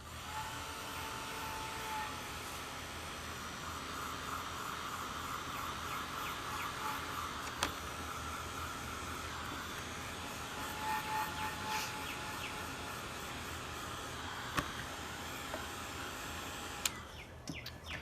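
A hair dryer drying watercolor paint runs as a steady, loud, unbroken whoosh that stays up close, with a few faint clicks. No one speaks.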